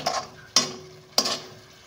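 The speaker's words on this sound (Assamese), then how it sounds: "এতিয়া এইখিনি পুনৰ শুকাই ডাঠ হৈ অহালৈকে মই ভাজি থাকিম" Grated coconut and sugar cooked over medium heat in a pan for a Magh Bihu sweet, with three evenly spaced scraping stirs, each a sharp close swish that trails off into a soft sizzle.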